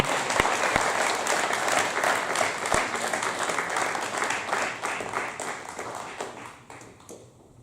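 A church congregation claps for Jesus: a dense, continuous burst of applause with a few sharp louder claps, slowly thinning and fading toward the end.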